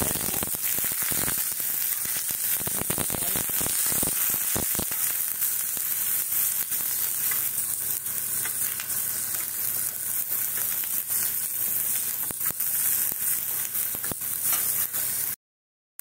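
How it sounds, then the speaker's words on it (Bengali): Eggplant pieces fry in hot mustard oil, giving a loud, dense, unbroken sizzle that crackles steadily throughout and cuts off abruptly at the end. "বড়িগুলোকে ভাজার পরে এবারে বেগুনগুলোকে দিয়েছি"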